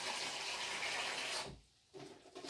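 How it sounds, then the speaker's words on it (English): Tap water runs steadily into a saucepan in a home kitchen, a loud continuous hiss that cuts off abruptly, then a brief softer splash follows. "So I'm going to get my saucepan and put water in it"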